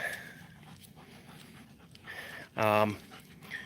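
A seeing eye dog pants softly and quickly during a walk down a road, fairly close, against steady outdoor background noise and broken by a short, loud vocal burst.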